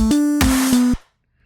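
A plastic-style synth patch from Serum in Reason 12, a few short loud tonal notes with a bright noisy attack that cut off abruptly into silence.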